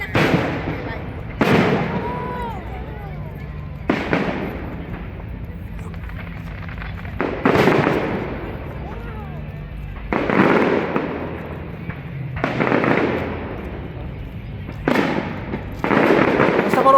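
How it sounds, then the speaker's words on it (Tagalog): Fireworks explode in repeated loud bursts every couple of seconds at a fiesta for St. John the Baptist, each followed by crackling decay, with people talking faintly in the background. "Ang fireworks na simula na."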